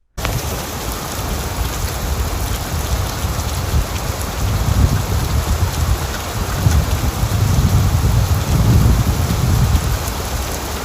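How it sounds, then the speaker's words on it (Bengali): Steady heavy rain pours continuously on a surface, with low rumbling swells that suggest distant thunder, all loud and close throughout as background for a horror story told in Bangla. "বৃষ্টি থামার কোনো লক্ষণ নেই।"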